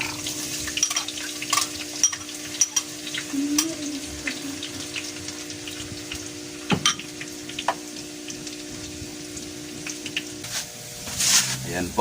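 Garlic and onion frying in a pan, a steady crackling sizzle that runs the whole time while a person talks over it.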